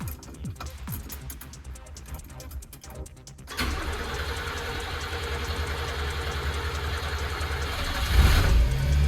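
A Subaru Sambar kei truck cranks with fast starter whirring, then the small engine catches and settles into a steady, close idle that swells briefly near the end.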